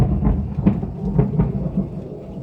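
Thunder rolls through a garden during a thunderstorm, a deep, loud, continuous rumble with a few heavier pulses, with no voices.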